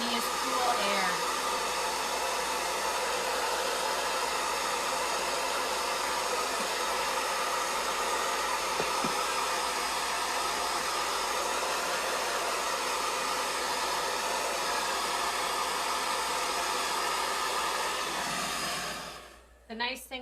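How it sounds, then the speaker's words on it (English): A hair dryer blows steadily on its cool setting at close range for nearly the whole stretch, then cuts off near the end with a brief clatter. "The nice thing about the hair dryer is you can hit that cool shot on there"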